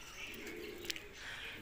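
Pigeons, including a large Salara bird, coo in low murmuring phrases at close range, with a brief sharper chirp near the middle, over a continuous faint noise; no talking.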